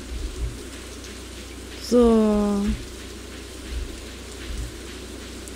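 Steady rain falls in the farming video game Stardew Valley, a soft constant hiss with a few low thuds, while someone speaks briefly and one short tonal game sound cuts through midway.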